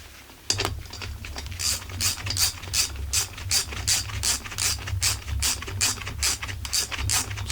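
A ratchet wrench clicks in quick, even bursts while tightening crankcase bolts on a Husqvarna 45 chainsaw, close and crisp with a rhythmic back-and-forth pawl chatter.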